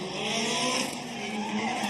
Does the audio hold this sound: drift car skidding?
yes